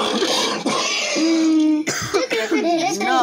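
A deep cough with throat clearing, voiced up close in a Spanish-dubbed parody about the origin of swine flu, with talking voices around it.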